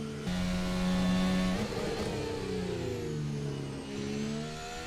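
Formula 1 car engine in F1 2025 at Bahrain, revving hard on the throttle with rising and falling harmonic whine, steady and loud throughout, briefly dipping then climbing again on the lap.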